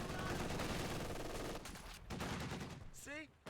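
Heavy DShK machine gun fire in Company of Heroes 2 battle, dense rapid bursts filling the first half, then thinner scattered shots and game effects, loud and continuous.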